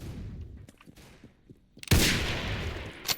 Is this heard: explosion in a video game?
yes